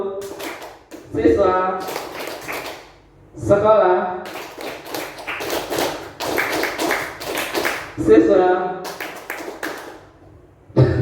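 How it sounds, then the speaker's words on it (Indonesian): Primary school teachers clap in short, sharp bursts on cue during a clapping game, with the claps falling in the pauses between a leader calling out words. "bertepuk tangan sesuai dengan ketentuan yang ada"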